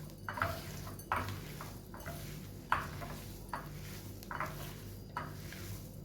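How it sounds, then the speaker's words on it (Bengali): Paneer being kneaded with spices and garam masala in a bowl, giving soft rhythmic squishing with a clink against the bowl about every second, close and fairly quiet. "এই পনিরটাকে আমি খুব ভালো করে মেখে নেব"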